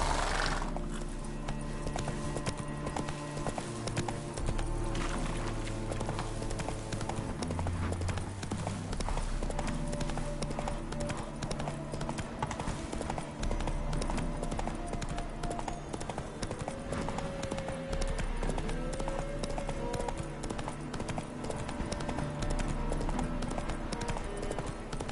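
The horse Roach in The Witcher 3: Wild Hunt trots with steady rhythmic clip-clop hoofbeats over continuous game music, with an occasional whinny and faint voices.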